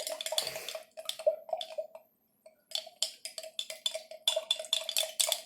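A spoon stirs food coloring into a jar of oil, making quick, irregular glassy clinks and light taps in bursts with a brief pause midway, close and fairly crisp.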